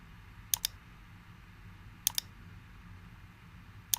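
A computer mouse clicks in quick double pairs, three times over a few seconds, crisp and close against a quiet room hum.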